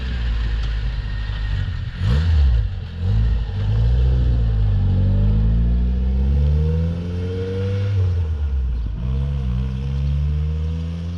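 A Toyota AE86 car engine rumbles and revs up and down nearby, rising and falling in pitch as it drives, with no talking.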